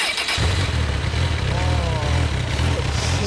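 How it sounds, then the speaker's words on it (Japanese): A 2012 Honda CB1000R motorcycle, delivered new, runs at idle close by, its engine giving a steady, even low rumble throughout. "エンジン音聞かせてもらえますか"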